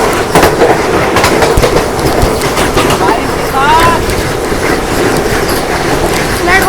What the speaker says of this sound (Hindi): सामने से आ रही है सैफरॉन वंदे भारत लग रही है।